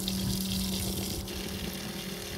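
Water rushing steadily through a pump-fed garden supply line from collected roof rainwater stored in IBC tanks, a constant near gushing flow with an underlying pump hum and no voices.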